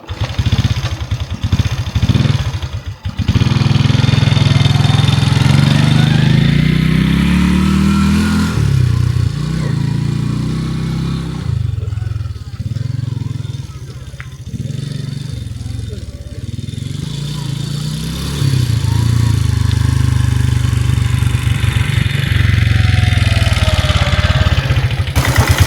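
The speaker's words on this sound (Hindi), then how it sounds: "सो अभी मैं बर्मिश बाइक ट्रैक करने वाला हूँ, म्यांमार की बनी हुई बाइक।" A Myanmar-made motorcycle engine runs steadily at close range for the whole stretch, with a low, continuous hum and a few revving swells, while someone talks over it.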